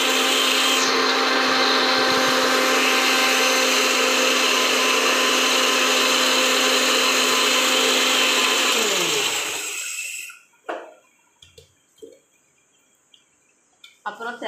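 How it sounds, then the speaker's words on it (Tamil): A mixer grinder blending a beetroot and carrot milkshake roars loudly and steadily for about ten seconds, then winds down and stops, leaving a few faint clinks and small movements. "மிக்ஸி ஜாரில் அடித்தா தான் அது மில்க் ஷேக் பதத்துக்கு வரும்"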